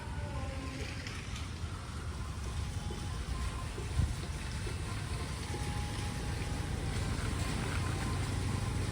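Light rain falls steadily near the flooded Kali Bein river at Sultanpur Lodhi, a continuous soft hiss with a low rumble of swollen water beneath it, with no talk over it.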